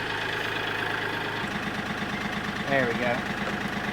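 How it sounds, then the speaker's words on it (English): A tractor engine turns over and settles into a close, rhythmic idle thumping with a brief rev, while someone speaks briefly over it. "I'm going to start the tractor."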